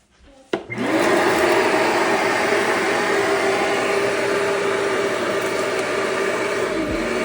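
An Airthereal T1 touchless vacuum switches on with a sharp click and settles into a loud, steady high-pitched whir with a constant motor drone that continues unbroken until it cuts off right at the end.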